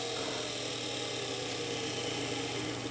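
A mini magnetic window motor spinning steadily at high speed, giving a constant close whirring buzz with a slight vibrating edge and no pause.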